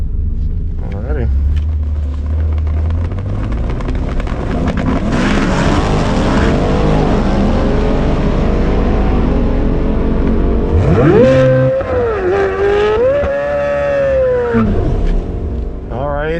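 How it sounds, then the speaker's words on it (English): A Corvette C8 Z06 with a drag pack does a burnout: a loud, sustained engine roar with tire noise fills the clip, rising and revving hard toward the end, with a voice briefly audible over it. "did a decent burnout, halfway decent burnout"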